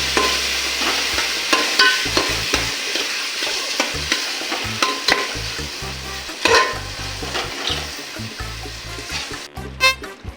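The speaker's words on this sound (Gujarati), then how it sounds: "હવે આપણે અંદર ટમાટર લઈ લઈશું બરાબર મિક્સ કરી નાખવાનું" Tomatoes fry and get stirred in a hot pan for a Kathiyawadi sev tameta curry, with loud steady sizzling and repeated spoon scrapes and knocks against the metal, close and without speech.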